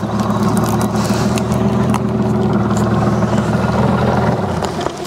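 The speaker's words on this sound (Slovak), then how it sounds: "Vypnem ten motor." A boat's outboard motor idles on a river during catfish fishing, a steady loud drone with a low rumble that fades out near the end as the engine is switched off.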